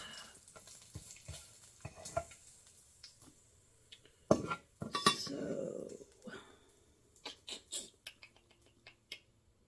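A bacon-grease skillet is handled while poached eggs are made, giving scattered metallic clanks, scrapes and knocks with a short sizzling burst in the middle, fairly near in a quiet kitchen.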